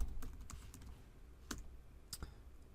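Sparse keystrokes on a computer keyboard as a DNS server command is entered in Nslookup, a handful of light, separate clicks spread out over quiet room tone.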